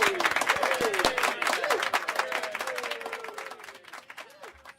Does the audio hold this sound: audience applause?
yes